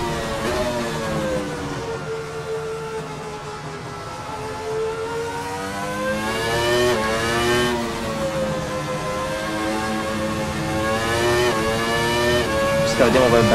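Ferrari F310 B Formula One car in Assetto Corsa, its high-pitched engine revving loudly up and down through gear changes, with sweeping rising and falling whine and a sharp burst near the end, heard alone at close range.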